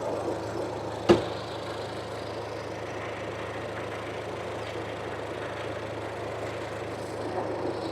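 Petrol engine of a Tata Harrier or Safari idling steadily, a low continuous hum with one sharp knock near the start, otherwise even and unchanging.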